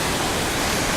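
A big waterfall in Chiapas gives off a dense, unbroken roar of rushing water, loud and steady for the whole moment.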